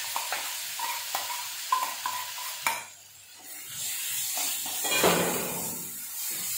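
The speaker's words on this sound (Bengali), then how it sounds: "এবার আমি মেওয়াটাকে সঙ্গে মিক্সচারটা করে নেব।" Mawa mixed and roasted in a pan on a low flame, starting with a series of spoon scrapes and taps, then a steady hissing sizzle with stirring scrapes.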